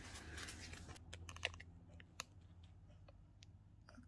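Thread snipped off at an industrial sewing machine, a few sharp close clicks of a cutting blade spread over a few seconds with a faint machine hum underneath.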